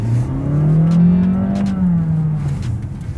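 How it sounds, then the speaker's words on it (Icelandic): A 2022 Honda HR-V engine revs loudly, its pitch climbing then easing back as it accelerates close by, a throaty roar with no talking. "ef að menn vilja komast fljótt upp í hraða, þá skal ég leyfa ykkur að heyra hvað heyrist"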